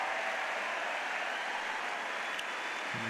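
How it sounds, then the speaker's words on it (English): Tennis crowd at the 2004 US Open final in New York applauding in a steady, broad roar of clapping and cheering that fills the stadium without pause. "the crowd goes wild"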